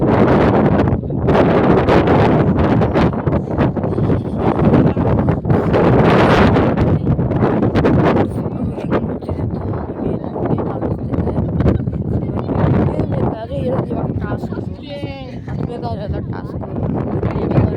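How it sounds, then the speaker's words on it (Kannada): Strong wind gusts buffet the microphone on Mullayanagiri peak, a continuous loud roar and rumble with a person talking over it throughout. "ಗಾಳಿ ಬೇರೆ ನಮ್ಮನ್ನು ತಳ್ತೈತೆ"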